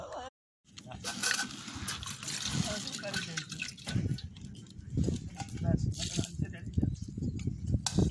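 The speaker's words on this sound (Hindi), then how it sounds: "ये चाय बनाने के लिए पानी डाल रहे हैं।" Water is poured out of doors to make tea beside a lit fire, a continuous splashing trickle under ongoing talk from several people.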